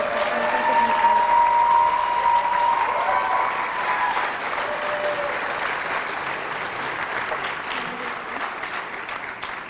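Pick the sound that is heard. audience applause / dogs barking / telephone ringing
audience applause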